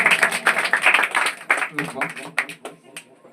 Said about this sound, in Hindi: इनके लिए जबरदस्त तालियों का स्वागत किया जाए।